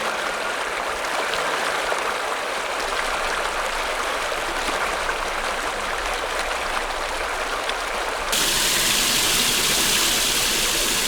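A mountain valley stream in an autumn gorge in Danyang rushes steadily, a broad continuous wash of flowing water heard alone with no voices, brightening slightly toward the end.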